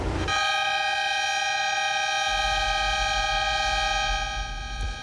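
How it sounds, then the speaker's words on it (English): A lightning prediction device's loud, steady warning siren sounds continuously after a sharp onset, holding one pitch throughout with a low rumble underneath. "That is the sound of a lightning prediction device in action"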